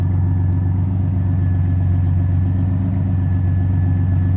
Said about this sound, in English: So this is how the car sounds when it idles down.